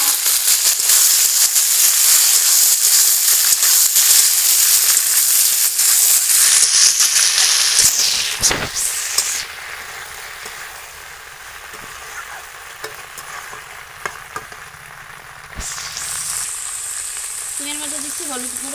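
Flat beans sizzling loudly in a hot pan of fried spices, a dense crackling hiss that eases after a stir, then swells again toward the end with brief faint talk.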